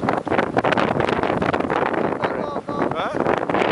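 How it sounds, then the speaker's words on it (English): Strong blizzard wind buffets the microphone on Lynn Beach in a steady, loud roar throughout, with people talking over it. "Show them how strong the wind is."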